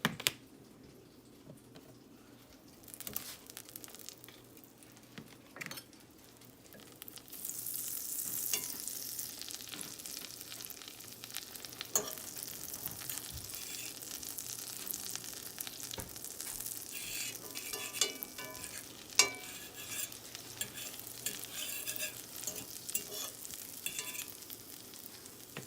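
Bread soaked for French toast frying in butter in a pan, a steady sizzle with soft stirring and occasional clinks that holds through the clip, no voices.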